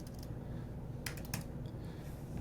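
Computer keyboard typing while an email is written, quick clusters of faint key clicks in two short bursts over a steady low background hum.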